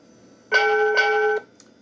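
A single electronic ding from the bell of a Proto 1 model train locomotive sitting in neutral, one clear sustained tone just under a second long against a quiet background.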